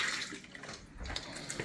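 Concentrate water from a reverse osmosis system on a Bezzera Strega espresso machine, flowing in a steady, close hissing stream with small splashy fluctuations.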